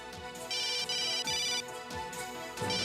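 A phone ringtone plays a repeating electronic melody, clear and fairly loud, cycling several times with no voices.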